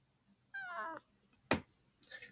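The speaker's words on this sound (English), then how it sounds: "cat" A cat meows twice in short, clear calls, the first drawn out for about half a second and the second a brief, bright cry, with a faint third meow trailing at the end over near silence.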